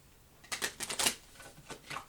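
Tarot cards being shuffled by hand, a few quick soft riffling bursts close by, quiet and with no talking.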